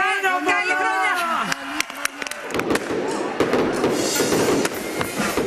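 New Year fireworks burst over the Acropolis in Athens, a dense run of crackles and pops that builds after voices from the crowd fade, with loud celebration noise throughout.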